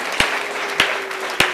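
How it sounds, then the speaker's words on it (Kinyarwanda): A congregation at a church wedding claps in a slow, rhythmic beat: three loud, evenly spaced claps over a steady hall background hum. "mukomere Imana yacu amashyi."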